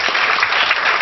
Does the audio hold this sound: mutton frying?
no